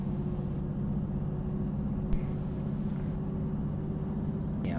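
A semi truck engine pulls hard in gear as it winds up toward its limit, a steady loud low rumble and drone throughout with one brief knock midway, no talking.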